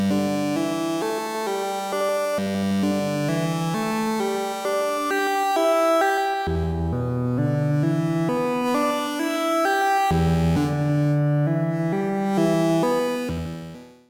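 A Eurorack modular synthesizer voices its main and sub oscillators through a mixer in a slow ambient passage, with sustained harmonic tones and gliding low notes that shift every few seconds, loud and continuous with no talk.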